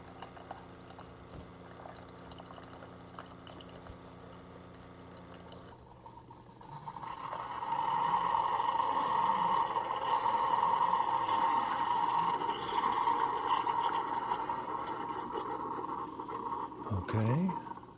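A single-serve K-Cup machine brewing an 8-ounce cup of Starbucks breakfast blend, first a low motor hum, then a loud steady gurgling, hissing pour that lasts about ten seconds and ends in a final sputter, with someone talking quietly.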